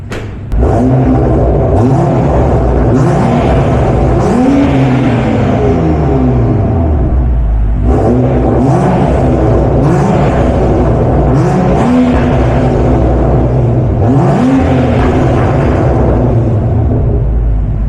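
A BMW 535i F10 engine with a stage 2+ build revs repeatedly, rising and falling in pitch with a deep, throaty exhaust rumble, loud and close, with no talking.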